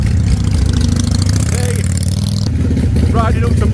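Harley-Davidson motorcycle engines idle with a deep, loping rumble and clatter, loud and close. Someone talks over them and the engine note shifts partway through.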